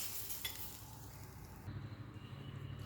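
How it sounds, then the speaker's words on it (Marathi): Hot oil tempering with mustard seeds and asafoetida is poured over onion and raw mango chutney, giving a soft close sizzle with faint crackle and a light clink of utensils, then a stirring scrape as the mixture is mixed. "ही गरम फोडणी यावर घालून द्यायची आहे"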